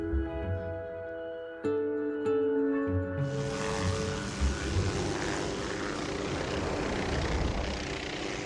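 A helicopter engine drones steadily, rising into a loud, broad roar of rotor and engine noise partway through that stays constant to the end.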